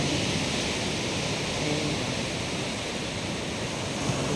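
Steady broadband wash of sea waves along a seashore with a seawall, continuous and fairly even throughout, with no distinct individual breakers standing out and no voices.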